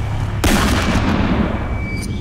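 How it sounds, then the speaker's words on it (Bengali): A single loud gunshot in a dramatized audio story of Dracula's Guest, fired at a wolf in a snowy forest, bursting abruptly and decaying into a long rumbling tail. "আমার মাথার উপর দিয়ে বিকট শব্দে গুলি ছুটে যেতে দেখলাম"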